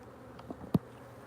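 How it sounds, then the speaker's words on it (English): Honey bees buzzing in an open hive box, a faint low hum with a few brief close buzzes passing by, one sharper and louder near the middle. "It's a decent box of bees"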